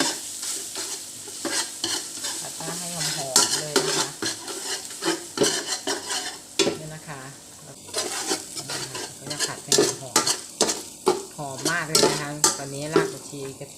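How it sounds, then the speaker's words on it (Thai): Palo spices are stir-fried in a little oil in a pan, giving a busy, steady sizzle broken by frequent scrapes and clinks of the spatula against the metal, close up and fairly loud. "เครื่องพะโล้เนี่ยลงไปผัดก่อนนะคะ"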